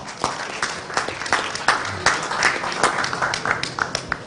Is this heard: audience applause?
yes